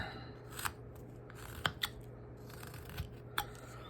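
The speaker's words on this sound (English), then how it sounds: "Go a little bit deeper with my stop cut, take a little bit of material more out" A carving knife slices into wood on a hand-carved whistling wizard figure, working down to a stop cut: a few small, crisp cutting clicks spaced apart over a quiet background, close and fairly faint.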